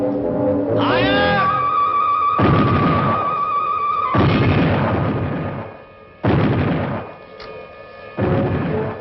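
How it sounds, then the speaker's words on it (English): A ship's cannons fire a broadside in a pirate adventure drama: four heavy booms, roughly two seconds apart, follow a brief tonal sound at the start. "Fire a broadside."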